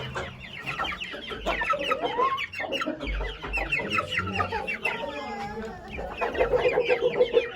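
Turkey chicks peck at feed thrown inside their enclosure, with dense, continuous high peeping and chirping close by and a few low thumps underneath.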